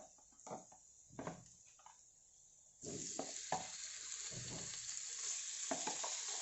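Chicken breast pieces are dropped into a pan of hot oil after garlic, with soft stirring scrapes at first, then a loud, steady sizzle of frying that continues to the end with occasional stirring bumps.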